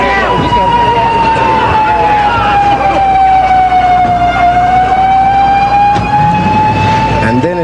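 Wailing ambulance siren at the scene of the 1981 Reagan assassination attempt, a loud steady tone sliding slowly down and back up throughout, with shouting crowd voices and commotion underneath.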